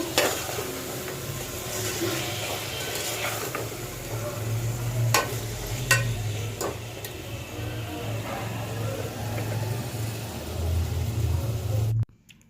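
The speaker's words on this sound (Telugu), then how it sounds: "తర్వాత మనం కట్ చేసి పెట్టుకున్న టమాటా ముక్కలు వేసుకోవాలి బాగా కలుపుకోవాలండి" Chopped tomatoes stirred into a frying pan with green chillies and onions for a spicy brinjal curry, giving a steady close sizzle and scraping for about twelve seconds before stopping abruptly.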